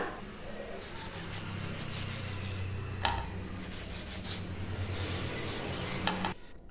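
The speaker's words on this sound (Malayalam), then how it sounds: "പച്ചമാങ്ങ ഇതേപോലെ തന്നെ കട്ട് ചെയ്തെടുക്കാം." A knife chops raw green mango on a board in a home kitchen, a continuous rasping, scraping rub with a couple of sharper knocks, close and steady, then stopping near the end, with no talking.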